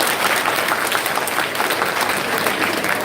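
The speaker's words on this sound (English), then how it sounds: "Yeah, round of applause for them for sure" An audience claps steadily and densely for students at a school event, a continuous wash of applause with no one speaking.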